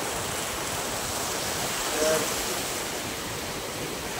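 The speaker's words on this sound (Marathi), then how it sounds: "इथं भदवदीत पाणी एक जागी खाली पडते आणि मग जाते" Water tumbles down a drop at a small waterfall, a steady, broadband roar running throughout, with a brief spoken word near the middle.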